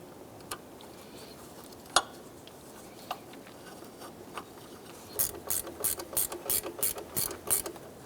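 A ratchet drives a bolt into an alternator adjuster on a 2005-2009 Subaru Outback: a few scattered clicks at first, then a quick run of close, crisp ratcheting clicks.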